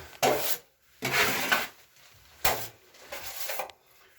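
A drywall knife spreads joint compound to pre-fill the gap around a vent during a butterfly patch repair, giving close scraping swipes in four separate strokes with short pauses between them.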